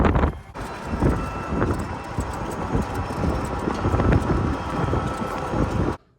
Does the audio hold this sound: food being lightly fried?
no